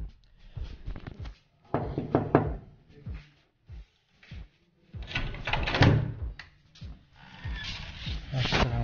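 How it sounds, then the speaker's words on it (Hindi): A room door in a hostel being handled and opened, with several knocks, clunks and rattles spread over the span amid shuffling and movement noise nearby. "तो अभी दरवाज़ा खोलते हैं"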